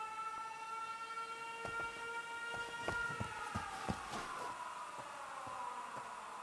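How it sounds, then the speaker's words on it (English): Air raid sirens in the video game 13 Sentinels: Aegis Rim wail steadily with layered sustained tones that slowly slide downward, punctuated by scattered sharp clicks, at a faint overall level. "Air raid sirens."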